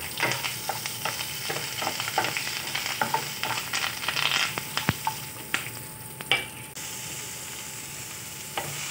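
Dried red chillies and a large onion sizzle and crackle in hot tempering oil as they are stirred, steady frying noise with scattered scraping clicks of a utensil, close and fairly loud, no speech.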